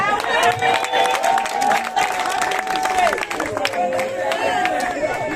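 Applause from an audience at an outdoor community talk in Ozangue, Libreville, Gabon: continuous clapping and crowd noise under a steady tone, with voices mixed in.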